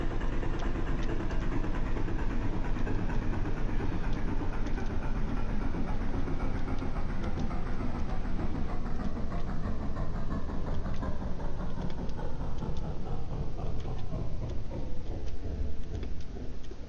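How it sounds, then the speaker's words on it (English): A World War II scout car's engine idling in the online game World War II Online: Battleground Europe, a steady, rumbling drone held at constant loudness throughout, with no clear shutoff heard. "Takes a step for the engine to shut off."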